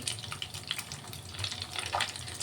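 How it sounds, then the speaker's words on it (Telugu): Whole spices (coriander seeds, cardamom, cloves, cinnamon and cumin) dry-roast in a pan with a faint, steady crackle and scratchy stirring, quiet and continuous with no voices. "ఈ మసాలాన్ని కొంచెం లైట్గా మారకుండా దోరగా ఫ్రై చేసుకుంటున్నానండి"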